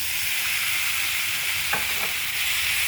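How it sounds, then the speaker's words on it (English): Steady, close sizzling of chopped tomatoes frying in a pan, with a couple of brief scraping stirs partway through. "just keep frying this for a few minutes until the tomatoes are nice and well done"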